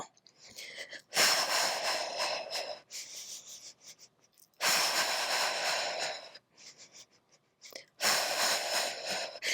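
Three long, breathy inhalations during a Pilates hundred exercise, each drawn for a second or two with quiet pauses between, close to the listener and alone.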